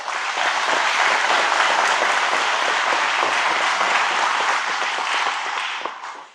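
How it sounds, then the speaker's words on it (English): Loud, dense applause from an audience at a local event, honouring the chair of ADOT, a full steady wash of clapping that holds for about six seconds before cutting off abruptly. "please give her a round of applause"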